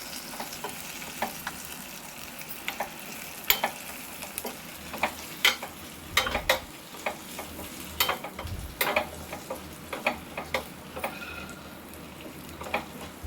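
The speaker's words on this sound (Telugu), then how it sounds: "తాలింపు వేగిందా?" A dal tempering fries in a pan with a steady, moderate sizzle, broken by sharp, irregular clicks and scrapes of a spoon stirring, close by.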